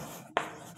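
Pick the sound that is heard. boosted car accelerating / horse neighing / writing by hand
writing by hand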